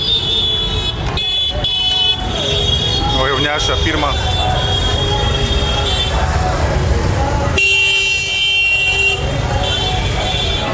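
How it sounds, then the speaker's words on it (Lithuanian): Car horns honking in heavy street traffic, repeated toots of varied pitch and length layered over a dense engine rumble, with a voice speaking briefly among them. "kodėl visi pypsna čia"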